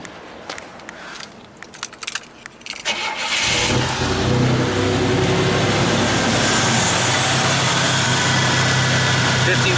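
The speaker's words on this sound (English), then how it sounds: "We're going to start it up, see what it is at idle." A Buick Grand National engine cranks and fires, then settles into a steady, loud idle, with some brief talk and clicks before it starts.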